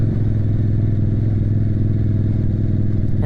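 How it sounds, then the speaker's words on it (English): A motorcycle engine runs at low speed in traffic with a loud, steady, close rumble and a fast, even pulse throughout. No one speaks. "I actually have to downshift because we're going so slow"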